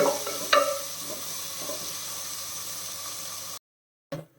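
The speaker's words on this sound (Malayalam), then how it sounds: "ബ്രൗൺ കളർ ആവുന്നത് വരെ വഴറ്റണം" Onions sautéing in a pan for prawn biryani give off a steady, close sizzle with a few stirring scrapes near the start, then cut to silence before one more brief burst.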